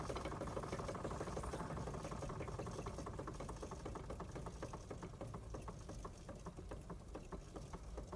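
A Wilesco D32 model steam engine running slowly, giving a steady, fairly faint mechanical chuffing and ticking rhythm that continues evenly throughout with no talking.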